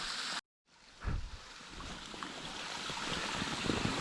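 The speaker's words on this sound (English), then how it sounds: "we do have some little waterfall here, sort of a pipe, some stuff." A small waterfall pours from a pipe into cold winter water, a steady close rushing splash that fills the clip after a brief cut to silence near the start.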